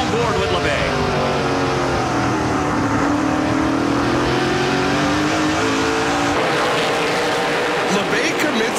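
Onboard a Ford Fusion race car in a NASCAR Pinty's Series race, a loud engine drone rises and falls steadily through gear changes while a commentator talks over it throughout.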